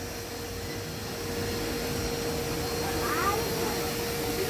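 A single cat meows near the end over a steady humming background, with people talking nearby.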